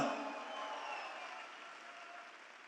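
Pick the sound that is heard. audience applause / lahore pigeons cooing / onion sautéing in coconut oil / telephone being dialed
audience applause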